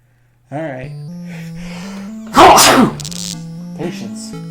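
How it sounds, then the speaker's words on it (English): A single short, breathy sneeze bursts out over steady droning music from the horror game Changed, with softer vocal sounds before and after it. "And a sneeze."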